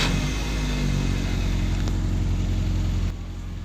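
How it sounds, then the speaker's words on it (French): A car fitted with a used starter motor runs after starting, a loud close engine rumble steady for about three seconds before dropping to a quieter idle. "Et je vais vous faire démarrer cette voiture là."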